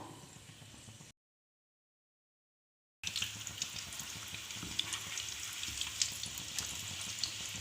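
An egg-stuffed evening snack frying in hot oil, a continuous close hiss and crackle of sizzling that cuts briefly to silence before returning louder and busier.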